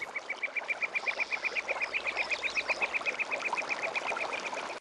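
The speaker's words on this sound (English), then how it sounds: "Hope that bird didn't surprise you too much." A duck quacking in a rapid, steady run of nasal calls, close and fairly clear, heard outdoors at the Taman Sari complex in Yogyakarta with faint background ambience.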